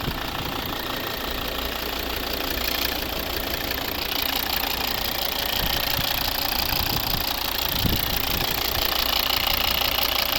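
A 2013 Volvo V60 R-Design 2.4 D5 five-cylinder diesel engine idles steadily close by, a continuous mid-pitched hum with a faint rhythmic knock, running without interruption throughout.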